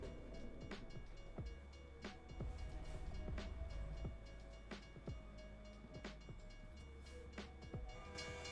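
A train passes steadily in a modded Wild West game, with a continuous low rumble and a regular clatter of wheel clicks about every second, fairly close and sustained throughout.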